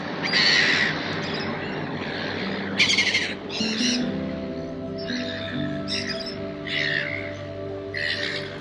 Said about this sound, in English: Seagulls are active